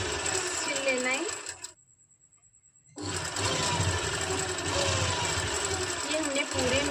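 A sewing machine stitches folded palazzo fabric with a steady mechanical whir that stops for about a second and then resumes, recorded close up with no talking.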